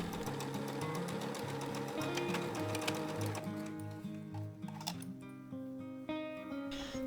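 A sewing machine stitches a seam with a fast, steady mechanical rattle that stops and starts in short runs near the end, loud and close with no voice over it.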